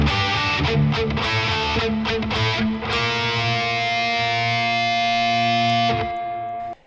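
Heavily distorted electric guitar plays the chord intro to a song, a string of chugged and sustained chords that rings out loud and alone before cutting off near the end.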